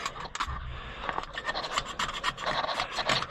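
Close, steady scraping and rasping as old gasket material is scraped off the carburetor mount of a 55EB John Deere combine, continuous rough strokes with no talk.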